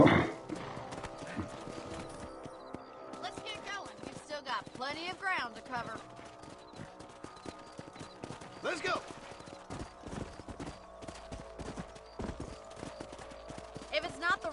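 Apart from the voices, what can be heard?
horses galloping, Red Dead Redemption video game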